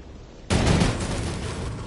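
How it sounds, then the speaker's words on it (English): A sudden loud blast of gunfire from a sniper rifle in Fortnite cuts in sharply, followed by a sustained roaring wash of battle noise that slowly tapers. "I just got sniped."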